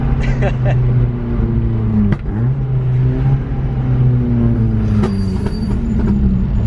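A nearby Mk1 Ford Fiesta with a swapped Honda VTEC engine and custom exhaust pipes revs loudly with a deep, throaty drone that rises and falls, while people talk over it.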